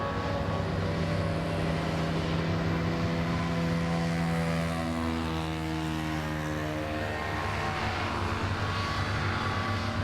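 Racing hovercraft engines drone steadily across a water course at a Formula hovercraft meet, one craft emerging from the water with a sustained propeller-like roar whose pitch slowly falls, mid-distance and continuous throughout.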